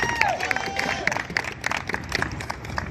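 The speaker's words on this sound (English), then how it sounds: "Everybody give a nice round of applause." A crowd at a gathering in California gives a speaker a round of applause as he is welcomed up, with scattered sharp claps and a few cheers rising and fading over about three seconds.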